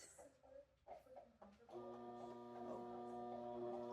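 A sewing machine stitches backwards while costumes are being made. A steady, faint mechanical hum with tonal whine starts partway through, after a few quiet bumps and handling noises at the beginning.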